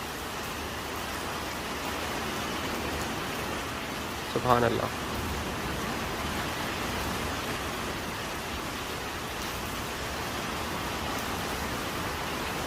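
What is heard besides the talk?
winter rain falling in Lahore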